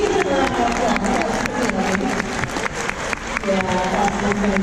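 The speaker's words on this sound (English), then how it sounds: "You can give him a round of applause." An audience claps and cheers at a dolphin show after a dolphin does a spinning tornado move, the applause steady and dense throughout, with a presenter talking over it.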